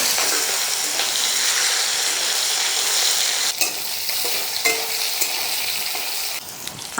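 Loud, continuous sizzling of a tomato dropped into hot oil with five-spice tempering in a pan, with stirring and scraping; the hiss drops partway through and carries on more unevenly.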